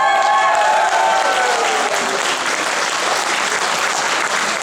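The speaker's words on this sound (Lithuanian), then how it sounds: "o jau tokie plojimai" A large audience claps loudly and continuously at a traditional folk band festival, a dense sustained roar of applause with no letup.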